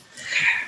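A single short sneeze, one quick breathy burst under a second long, close and fairly loud.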